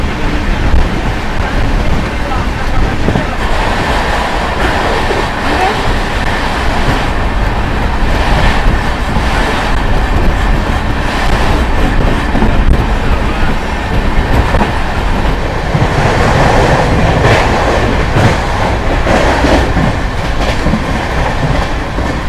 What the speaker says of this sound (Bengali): ট্রেন কিন্তু চলছে একদম দুর্দান্ত স্পিডে